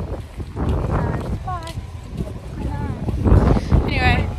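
Gusty wind buffets the microphone outdoors on Mykonos, Greece, rumbling low and steady while people talk nearby.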